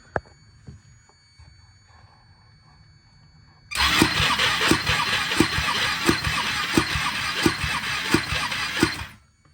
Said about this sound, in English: hitting the starter button now that the engine is full of oil